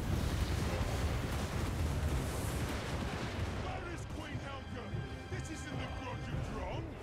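Dwarf Thunderers in Total War: Warhammer 2 fire their guns in a dense, continuous crackle of volleys through a defended corridor, loud and steady throughout, with a faint voice-like murmur in the mix.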